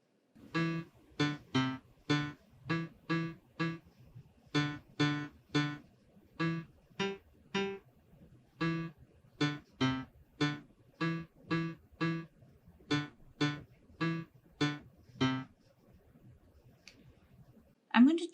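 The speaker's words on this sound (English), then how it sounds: "You can also use the keyboard to record your input melody" Roughly two dozen short keyboard notes played one after another on an AWS DeepComposer keyboard, each with a sharp attack and a quick decay, in an uneven melodic rhythm. They sound close and fairly loud, with no voices, followed by a brief quiet stretch at the end.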